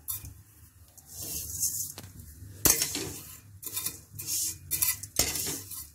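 Vermicelli dry-roasts in a pan with a drop of oil, a spoon scraping and stirring with a few sharp clinks against the metal in uneven bursts.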